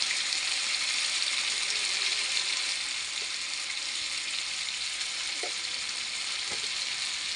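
Chicken coated in spices sizzles in a pan, a steady, even hiss of frying that runs unbroken throughout with a couple of faint soft clinks, and no one speaks.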